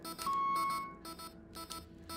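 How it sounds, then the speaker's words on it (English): Repeating electronic beep alarm from a space survival game called Tin Can, sounding in short, regular bursts over a steady low hum, with no voices. "if it would just stop beeping all the time"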